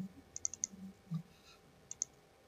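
A computer mouse clicks sharply while the user works in SPSS statistics software: a quick run of four crisp clicks, then a pair of double clicks later on, faint against a quiet room.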